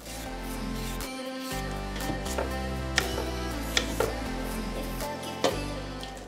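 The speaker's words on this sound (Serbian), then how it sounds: "Vodu sam već stavila samo da isečem batat." A knife cutting sweet potato on a cutting board, a few sharp distinct chops spaced irregularly over a steady low kitchen hum, close and clear.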